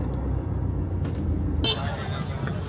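Road traffic jam at Mahabaleshwar, a hill station: a steady rumble of idling vehicles with a louder burst of engine or brake noise partway through, close by, while people talk over it.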